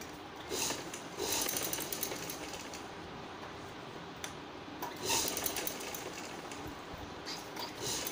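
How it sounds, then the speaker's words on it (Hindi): A sewing machine runs steadily while stitching salwar fabric, giving a continuous, fairly faint mechanical whir with a few short swells and dips and no talking. "इसमें सीधी सिलाई मैं लगा दूँगी।"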